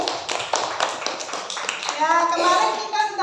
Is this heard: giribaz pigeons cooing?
no